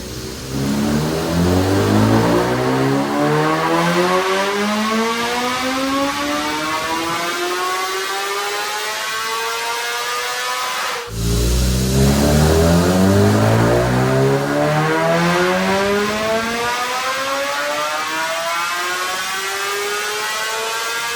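A 2026 BMW M1000RR superbike with a Stage 1 tune and aftermarket exhaust screams through two loud, continuous full-throttle dyno pulls, each rising steadily in pitch before the engine drops back and climbs again. No one speaks.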